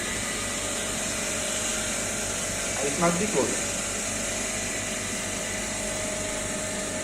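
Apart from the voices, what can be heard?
vacuum pump roughing air out of evaporation coating chamber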